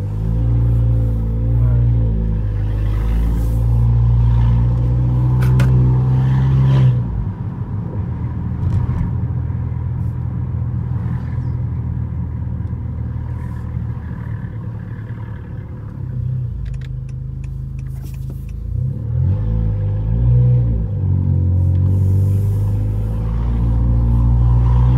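A 2019–2020 Honda Accord Sport 1.5T with a tuned exhaust setup drones steadily while driving, a loud continuous low rumble that eases slightly mid-run and then swells again as it accelerates.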